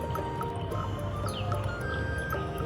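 Water filling a toy kitchen container during miniature cooking play, a steady trickle with irregular drips and small splashes running throughout at close range, with no talk over it.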